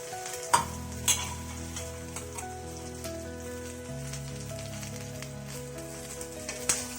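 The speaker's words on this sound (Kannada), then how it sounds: "ಕರ್ಬೇವಿನ ಸೊಪ್ಪು ಹಾಕಿ ಅದನ್ನು ಮಾಡಿಸ್ಕೋಬೇಕು" Fresh curry leaves sizzle and crackle in hot oil for a chutney powder, with sharp pops as leaves drop in, a steady frying hiss and a low background hum throughout.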